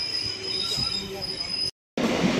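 An empty MEMU local train running from Katwa to Ahmedpur gives a loud, steady rumble with high wheel squeal, cut by a brief total dropout near the end before the rolling noise returns.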